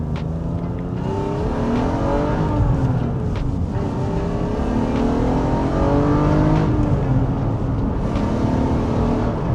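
BMW E36 car accelerating hard, its engine note climbing through the revs in long rising sweeps with a brief dip at a gear change, loud and close throughout with no talk.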